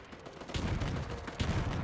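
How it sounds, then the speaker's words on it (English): Artillery fire in the WW1 strategy game Between Empires, with two dull booming salvos about a second apart, rumbling at mid distance with no voices. "the enemy has quite a bit of artillery, it seems, or it's at least 2 guns"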